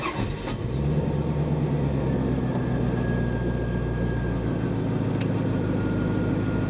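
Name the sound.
car engine starting and idling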